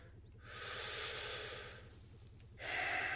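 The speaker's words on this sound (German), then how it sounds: "Schnaufen, ausschnaufen, einschnaufen," Breathing in and out during a meditation minigame in the game Arctic Awakening: long, airy broadband exhalations and inhalations alternating, steady and close, with a low rhythmic hum beneath and no talk.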